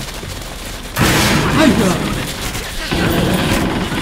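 Gunfire in the video game Metro Last Light, bursts of loud shots and booms heard close over a steady background, with a player exclaiming briefly.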